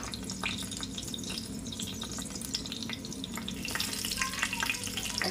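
Ghee sizzles and spits steadily in a hot pan, a continuous crackling fry with scattered sharp pops that grows a little louder and busier toward the end, with no voices.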